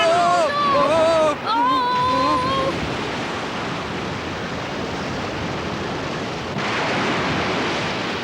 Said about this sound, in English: There's a storm coming! Looks like a pretty bad one, too!